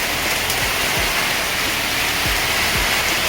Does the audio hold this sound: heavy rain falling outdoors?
yes